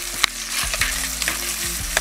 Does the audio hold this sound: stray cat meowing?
no